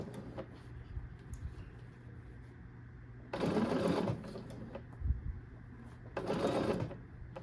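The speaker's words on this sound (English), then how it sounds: "put your presser foot down, and slowly and carefully start stitching" Sewing machine stitching a zipper into a faux leather skirt, two short bursts of rapid needle chatter separated by quiet pauses and small handling clicks.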